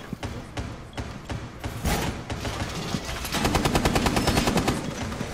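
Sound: gunfire in video game Rainbow Six Siege

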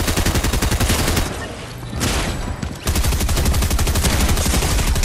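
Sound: gunfire in the video game Fortnite

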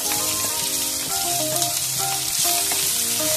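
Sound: chopped onions frying in hot coconut oil

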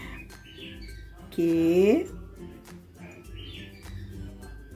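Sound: pet parakeet whistling

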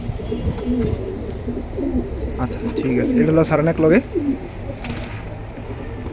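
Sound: military pigeons cooing at a pigeon sale

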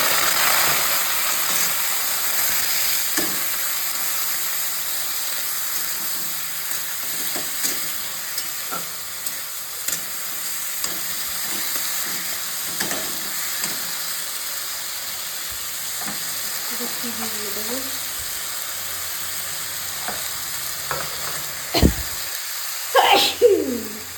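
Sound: chopped garlic frying in oil

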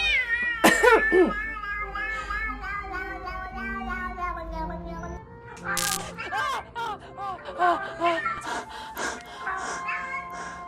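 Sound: cats meowing in a played video clip

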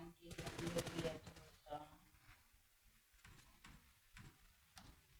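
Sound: gunshots in PUBG Mobile video game

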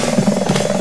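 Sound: helicopter in video game Slendytubbies

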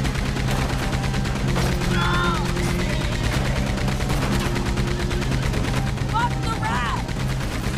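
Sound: gunfire in the video game Red Dead Redemption 2

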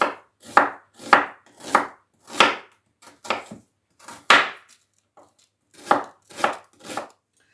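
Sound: knife cutting carrot into thin strips

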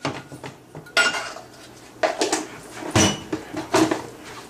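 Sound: pan being handled on the stove

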